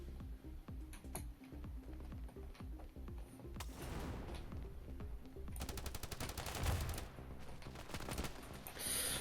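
Rapid bursts of gunfire in the shooter game Standoff 2, single shots and automatic fusillades, crackle at moderate level with mechanical clicks between volleys.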